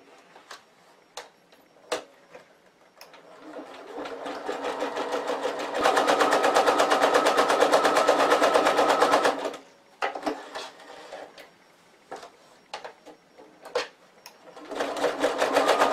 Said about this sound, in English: I'll do the other seam. Yeah, little locking stitch there.